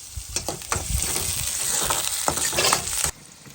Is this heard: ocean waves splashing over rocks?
no